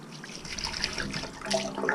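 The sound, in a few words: water being poured into a chicken tractor waterer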